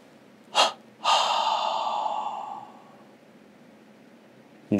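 Deep, audible breaths during a yoga and meditation session: a short sharp inhale, then a long drawn-out breath that fades over about two seconds, followed later by another sudden intake, close and clear with no talking.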